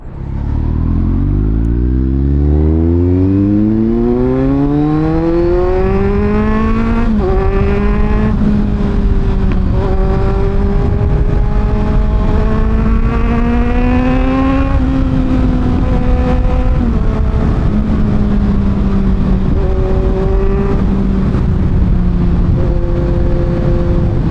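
A Kawasaki Z900 motorcycle, ridden by an owner of six years, pulls away and climbs through the gears: a loud, close engine revving up in rising sweeps with brief dips at each shift, steady and continuous throughout.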